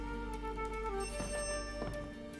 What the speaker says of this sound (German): Was ist denn da Telefon?